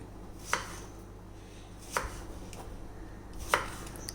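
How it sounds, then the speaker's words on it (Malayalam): A knife cuts mango into long, small pieces, making three crisp, evenly spaced chops against a board, close and fairly quiet, with no talking. "മുഴുവൻ മാങ്ങ നമുക്ക് ഇതേ രീതിയിൽ കട്ട് ചെയ്തെടുക്കാം."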